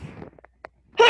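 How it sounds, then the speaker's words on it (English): After a voice trails off and a few small breaths, a single loud, close sneeze bursts out at the end. "I think I've got to sneeze here."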